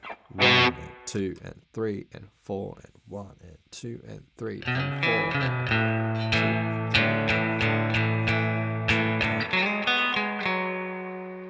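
Distorted electric guitar plays a second chorus with an adjusted lick, sustained chords ringing loudly after a spoken four-beat count-in.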